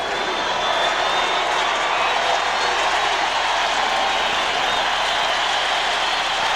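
A large football stadium crowd at a 2003 AFC Wild Card playoff game between Denver and Indianapolis fills the air with a dense, sustained wash of applause and cheering, loud and unbroken throughout.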